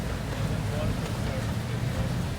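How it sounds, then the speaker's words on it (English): Strong wind gusting in the aftermath of Hurricane Michael, a steady loud roar buffeting the microphone throughout with no break. "the wind's still kicking pretty hard right now"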